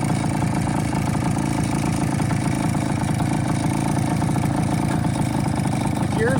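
The two-stroke engine of a 1970 Kawasaki G3TR motorcycle with a separate oil tank idles steadily up close. It gives a constant, even, buzzy throb throughout, with a voice speaking over it.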